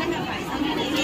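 Dense crowd chatter fills a busy local Nepali market, many overlapping voices talking at once close by.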